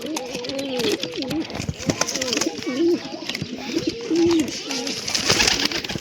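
Pigeons, adults and well-grown chicks, coo repeatedly in low rolling calls close by, with other birds and background noise around them.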